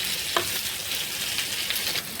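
Khalisha fish frying in a pan of hot oil, a steady close sizzle with faint crackles throughout, no voices.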